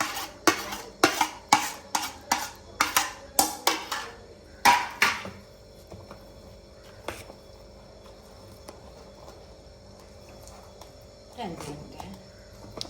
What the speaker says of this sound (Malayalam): അപ്പോൾ നെയ്യും കൂടെ മിക്സ് ചെയ്യുന്നു